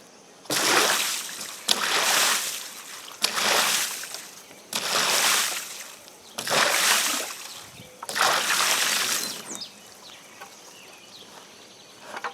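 A full 5-gallon bucket of water is poured over a kayak hatch in six separate dumps, each a loud, close splash and gush lasting about a second, with short pauses between them.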